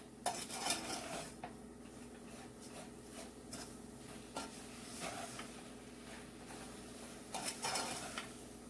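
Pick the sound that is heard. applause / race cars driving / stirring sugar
stirring sugar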